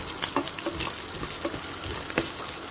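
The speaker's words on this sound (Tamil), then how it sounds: "கொஞ்சமாக கருவேப்பிலை இதெல்லாம் ஆட் பண்ணிவிட்டு அது நல்லா ஃப்ரை ஆகிற வரைக்கும் ஜஸ்ட்டு நம்ம கலந்து விட்டுக்கலாம்" Dried red chillies and curry leaves frying in oil for tapioca poriyal, a steady close crackling sizzle with a few sharper pops and light stirring throughout.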